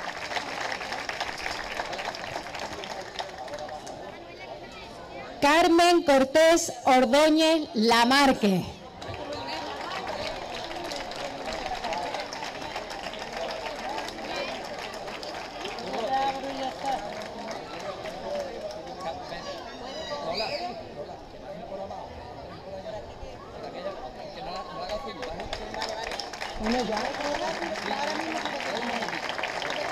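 A brief burst of audience applause rises between stretches of an announcer's amplified talk at the 50th anniversary celebration of the Barriada de la Fontanilla neighbourhood, with crowd chatter underneath.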